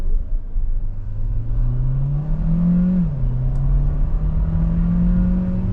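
A 2026 Kia Sportage Hybrid accelerates at full throttle in sport mode, its engine droning steadily and rising in pitch, dipping briefly at a shift and then climbing again, heard from inside the cabin with no talk.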